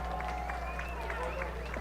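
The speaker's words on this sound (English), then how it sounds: "get that round of applause for those sophomores" A crowd at a college football game applauding sophomores coming off the field, a steady wash of clapping and cheering heard at a distance beneath an announcer's voice.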